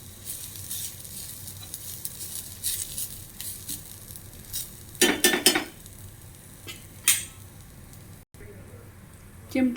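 Coriander seeds, chillies and tamarind dry-roasting in a pan give a soft, quiet sizzle with scattered scraping and stirring clinks, a few louder clatters of the pan, and a voice speaking at times.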